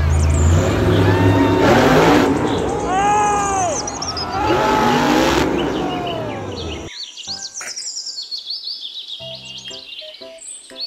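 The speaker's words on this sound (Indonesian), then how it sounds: "Mobil truk monster." A toy monster truck gives a loud, rough revving engine sound mixed with electronic chirps and warbling tones, then cuts to sparser beeps and bird-like sound effects.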